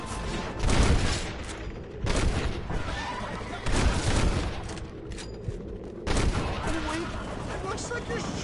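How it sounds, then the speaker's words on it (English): Gunfire in the Western video game Red Dead Redemption: bursts of loud shots cluster near one, two, four and six seconds, mixed with in-game voices and background commotion. "Looks like you're shooting at nothing!"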